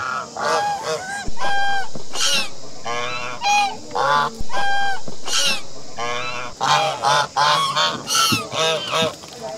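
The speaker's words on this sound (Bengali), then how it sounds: "কতগুলো হাঁস এখানে, জাস্ট দেখুন, এরা ঠিক নৌকার পাশে পাশে ঘুরছে" Ducks swimming on a lake right beside a boat give loud, repeated honking and quacking calls, close and overlapping in bursts with no talk.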